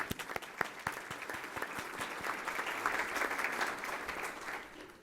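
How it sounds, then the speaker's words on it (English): An audience at a downtown development review event in Columbus claps, sharp scattered claps at first building into steady, fairly faint applause that fades toward the end. "Let's give them a round of applause as well, shall we?"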